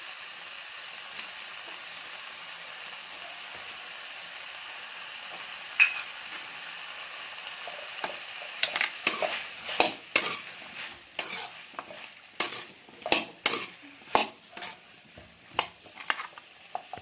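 Brinjal (eggplant) sautés in a pan over a faint background sizzle, then a spoon or spatula stirs and scrapes against the pan in a quick series of sharp clinks and knocks.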